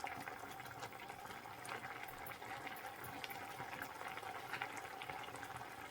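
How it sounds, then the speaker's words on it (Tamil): Anchovy fish soup bubbles at a steady rolling boil in a pot, a continuous soft hiss and gurgle, faint and close with no voices. "நாங்கள் நெத்தளி போட்டு கொதிக்க வச்சது அப்படி இருக்குன்னு பார்ப்போம் நல்லா கொதி வந்துட்டுது"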